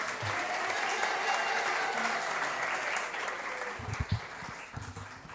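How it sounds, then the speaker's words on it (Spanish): An audience at a documentary series premiere on indigenous cultures in Chile applauds the national director of CONADI, a sustained even clapping with some low thumps and murmured voices near the end. "Recibamos con un aplauso también al Damián"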